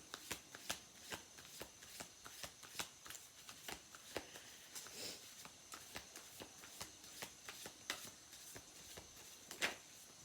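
Deck of cards shuffled by hand, a long run of rapid riffling flutters and crisp snaps in a steady rhythm, close and quiet.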